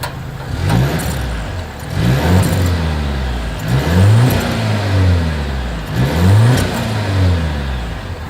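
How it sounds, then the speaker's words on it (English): A 2023 Volvo XC90 SUV's engine revs through its exhaust in repeated bursts, each swelling and falling away, loud and close with a deep droning tone and no talk. "exhaust clip"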